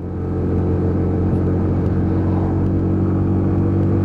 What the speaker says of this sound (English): even pulling up the hills, fourth gear, and it pulls loads of torque, as you'd expect from a little 125